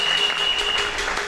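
Church congregation breaks into loud, sustained applause praising the Lord, a dense steady clapping that fills the room without a break.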